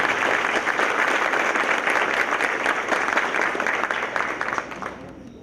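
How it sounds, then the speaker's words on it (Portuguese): An audience gives strong, sustained applause for the Mato Grosso State Youth Orchestra in Água Boa, dense clapping that holds steady, then thins and fades near the end. "uma forte salva de palmas para a Orquestra Jovem do Estado de Mato Grosso."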